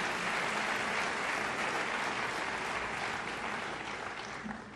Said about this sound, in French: Je voudrais réellement qu'on applaudisse encore très fortement